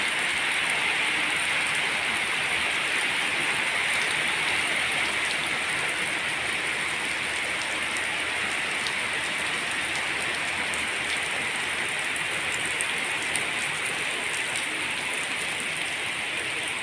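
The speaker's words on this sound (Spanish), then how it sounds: "Ahora aquí les está lloviendo, miren." Steady rain pours down continuously in Axtla de Terrazas, San Luis Potosí, a dense even hiss of drops on surfaces with no voices.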